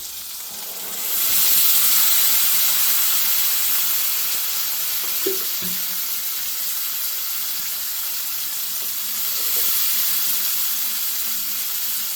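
A paste of ground cashew, onion and tomato hits hot oil for a chickpea chana masala gravy, giving a loud, steady broadband sizzle that swells and holds, with a few faint clinks.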